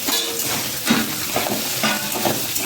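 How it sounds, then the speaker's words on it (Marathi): Onion frying in hot oil with peanuts, dal and chilies, a dense steady sizzle with stirring scrapes and clinks of a spoon against the pan at intervals, close and alone. "आता कांदा वगैरे छान तळू द्यायचे आपल्याला"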